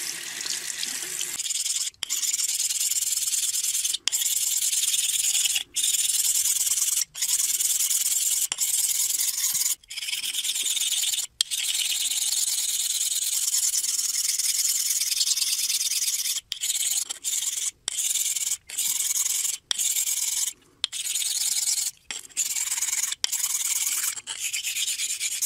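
Dovo Sunday Shaver straight razor drawn across a 3 by 8 inch sharpening stone lubricated with Ballistol, a steady gritty scraping that runs nearly nonstop, broken only by brief pauses between strokes, close and loud.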